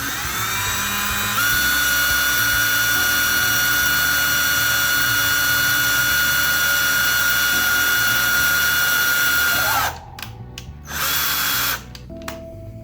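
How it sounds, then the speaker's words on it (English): A power drill whines steadily while boring through a sheet of plexiglass for an arcade cabinet control panel, holding one loud, even pitch before cutting out and briefly restarting in short bursts near the end. "start drilling, and we'll see how this works out."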